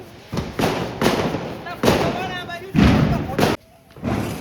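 A run of loud Diwali firecracker pops and thuds bursts nearby, one after another, mixed with excited voices.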